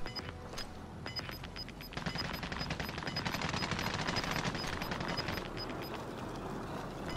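Rapid automatic gunfire rattles continuously in a video game shootout, dense bursts of shots stacking up loud and close with no pause across the whole stretch.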